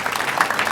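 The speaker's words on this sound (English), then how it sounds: "Give yourselves a round of applause." Outdoor competitors at a sports event on a hot day give a short round of applause, a brief dense patter of clapping heard at moderate distance.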